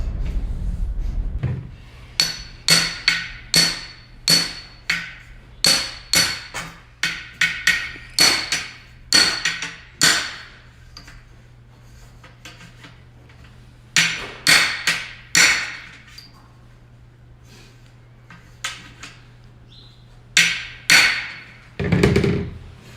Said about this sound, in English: put a little pipe joint compound around the flaring tool itself that as you hammer it in, it doesn't get stuck